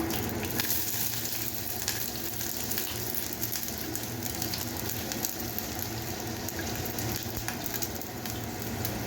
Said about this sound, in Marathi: सर्व परतून घेऊया